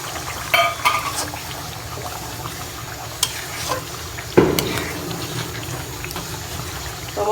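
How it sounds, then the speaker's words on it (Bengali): Masala for a Kabuli-style chicken roast korma sizzles in a pan with milk and almond paste added, a spoon stirring and scraping with occasional sharp clinks against the metal, steady close frying throughout. "তো মশলাটাকে আমি খুব ভালো করে কষাবো।"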